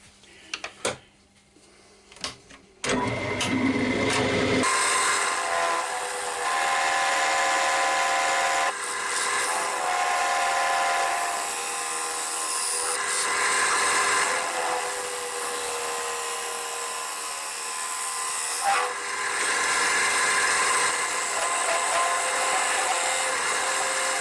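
A woodturning lathe cuts a tenon on a padauk box blank: a few faint knocks, then a steady, close, high-pitched whirring cut that runs continuously for about twenty seconds with slight dips in intensity.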